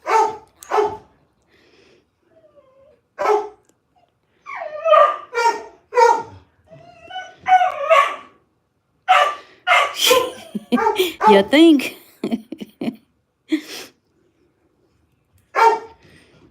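Two dogs barking at home in turns, one answering the other, in short sharp bursts across the clip with a person speaking briefly in between.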